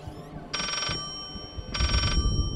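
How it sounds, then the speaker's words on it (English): A telephone rings from inside a wall in the VR horror game Layers of Fear, two clear electronic ring bursts separated by a pause, moderately loud over a low ambient hum, with no talk. "There's a phone going off."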